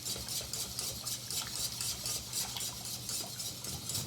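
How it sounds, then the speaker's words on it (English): A whisk stirs milk into a gluten-free mac and cheese sauce in a pan, in steady, rapid scraping strokes with a continuous wet swishing and faint metal clinks. No talk is heard. "And keep on whisking."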